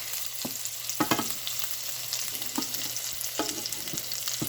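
Lightlife and Beyond Burger plant-based patties fry in a pan with a steady sizzle, broken by a few sharp clicks and scrapes as the patties are turned, close up and with no talk.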